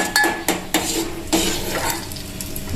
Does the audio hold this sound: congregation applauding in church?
no